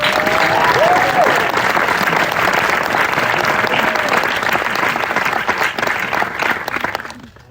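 Audience at a Rock & Roll Hall of Fame Bon Jovi exhibit event applauding loudly, dense sustained clapping with a few cheers and whistles that fades out at the end.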